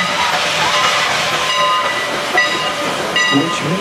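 A locomotive moving at the Strasburg Railroad, its bell ringing with steady bright tones over a continuous hiss and rumble of the passing train, loud and close.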